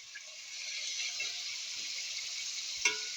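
Chicken pieces fry in a hot pan for a Filipino chicken asado, a steady close sizzle with a brief clatter of stirring near the end, no talk.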